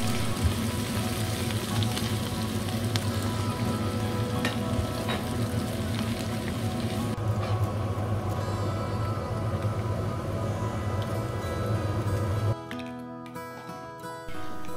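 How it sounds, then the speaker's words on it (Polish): Mushrooms frying in butter in a pan give a steady, close sizzle and crackle, continuous throughout, with a slight change in tone near the end and no voices. "Pod koniec smażenia dodaj masło,"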